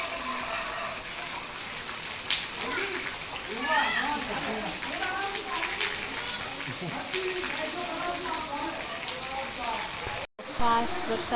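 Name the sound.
heavy rain falling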